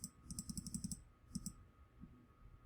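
Mouse clicks in Cricut Design Space: a quick run of about eight crisp clicks, then a pair and a faint final click, quiet and close with a low steady hum underneath.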